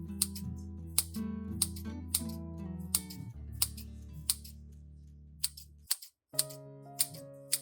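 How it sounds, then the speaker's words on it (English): Scissors snip a banana peel into small pieces, giving a series of sharp, close clicks at an uneven pace over a steady background music bed. "Use clean scissors or a knife to cut the banana peel into small pieces"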